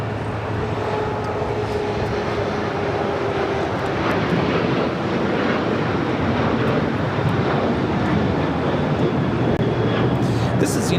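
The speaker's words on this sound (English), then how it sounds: "This is United Airlines 2234 taking off to San Francisco on a 737-900ER" A United Airlines Boeing 737-900ER bound for San Francisco takes off at LAX, a steady broadband jet roar with wind buffeting that holds loud and close for the whole stretch, with faint talk in the background.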